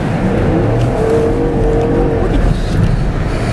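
A Jeep SRT with a supercharged V8 revs loudly and close up, a deep rumbling engine roar held under the throttle with a faint whine, as a person speaks over it.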